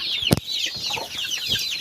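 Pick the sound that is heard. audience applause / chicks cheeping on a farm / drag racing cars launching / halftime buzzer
chicks cheeping on a farm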